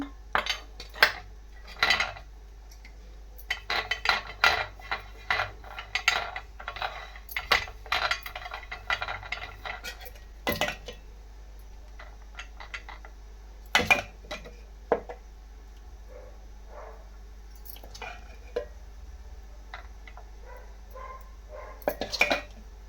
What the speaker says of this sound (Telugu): మరొక ప్లేట్ కూడా ఇలానే పెట్టుకున్నాను